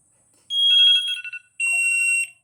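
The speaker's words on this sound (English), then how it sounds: "if someone picks up your bag and this shakes a little bit, it sounds an alarm and warns the person trying to move your bag" A small luggage tracking device sounds its anti-theft alarm: a shrill electronic beeping tone in a warbling burst, a short pause, then a second steady high-pitched blast, loud and close with nothing else heard.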